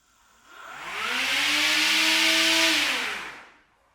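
A cordless brushless 40V INGCO CSTLI20018 lawn mower runs in gear two, spinning up quickly to a loud, steady whine and coasting down after about three seconds.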